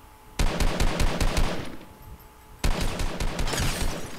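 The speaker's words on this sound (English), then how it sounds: "This man gonna shoot at me once and then stop shooting." Automatic gunfire in Fortnite Mobile, two loud bursts of rapid shots, the first lasting over a second, then a pause before a second burst.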